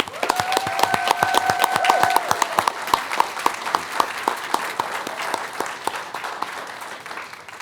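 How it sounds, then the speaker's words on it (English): Sustained applause from an audience at a school board meeting, with dense, even clapping that fades slightly toward the end. "Let's give them a round of applause."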